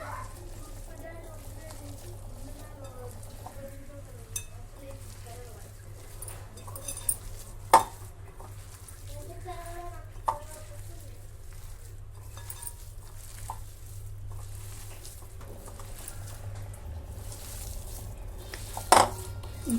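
Spinach pakoda batter is mixed by hand in a bowl, with soft squelching and occasional sharp clinks of the bowl, faint and intermittent against a low background hum while someone talks.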